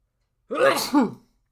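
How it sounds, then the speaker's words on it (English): A single short, sharp sneeze-like burst, close and fairly loud, with a breathy onset and a quick second push before fading. "I think I'm about to sneeze"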